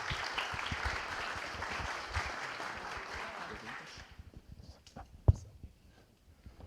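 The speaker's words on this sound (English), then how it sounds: "a big round of applause for them" Conference attendees give a round of applause for the presenters, a soft, distant clapping that dies away after about four seconds, followed by scattered room noises and one sharp knock.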